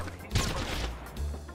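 A Mozambique shotgun in a video game's April Fool's mode firing a quick burst of gunshots, with sharp cracks close together, followed by a short pause and a lower thump.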